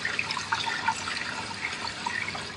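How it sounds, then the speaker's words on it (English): Rice is washed in cool water to rinse off starch, giving faint splashing and trickling with small drips and sloshes, quiet and close and with no voices. "So cool water on the rice, and the point of this is to get the starch off it out of it."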